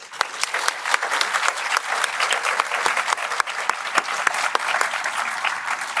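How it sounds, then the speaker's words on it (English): Audience applause at a Veterans Day celebration for Command Sergeant Major Morley, a steady, dense wash of many hands clapping for six seconds with sharp individual claps standing out, no voices. "Please give another round of applause to Command Sergeant Major Morley"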